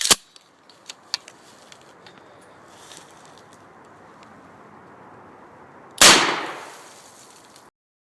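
A 12 gauge shotgun fires buckshot into a flak vest with a single loud, close blast and a decaying roar, after a few faint clicks and handling sounds.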